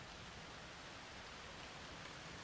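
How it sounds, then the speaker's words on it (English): Rain falls in the Planet Coaster 2 video game, a soft, steady, even wash of hiss with no breaks, faint and distant throughout. "It's raining right now."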